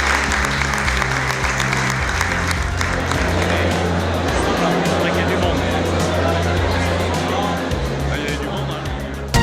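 An audience at the Marché aux Vins 2019 applauds young pig breeders, loud, dense clapping from a large crowd that holds steady for the whole stretch, with a faint murmur of voices beneath.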